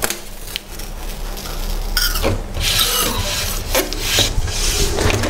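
Brown tape is applied to a photo frame with close, continuous rubbing and scraping, broken by several sharp peeling and smoothing strokes at moderate loudness.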